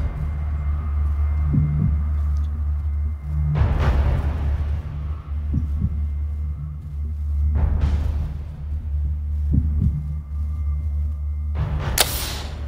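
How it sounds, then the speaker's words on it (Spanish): A thumping heartbeat effect builds tension during an extreme precision shooting challenge on a TV show. It is a low, throbbing pulse over a steady rumble, broken by a few loud whooshing bursts. "Un latido de corazón"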